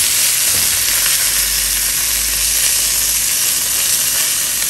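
Food for pollo sudado sizzles and fries in a pot with a loud, continuous close hiss, and a brief low stir or bump near the start.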